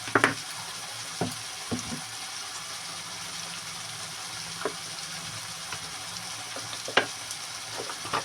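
Fish frying with turmeric in a pan, heard as a continuous bright sizzle with scattered crackles and pops, alone and at moderate loudness.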